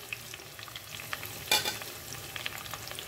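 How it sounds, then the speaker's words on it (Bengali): Chopped onions and curry leaves sizzling in a pan for Malabar egg curry, a quiet steady frying hiss broken by scattered pops and a brief louder stir partway through, with no talking. "এই সমস্ত উপকরণ দিয়ে আমি কিন্তু খুব ভালো করে এটাকে ভেজে নেব"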